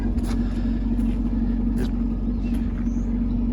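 A 2017 Chevrolet Camaro Fifty idles close by with a steady, deep low rumble, broken by faint brief clicks and rustles, and one short spoken word.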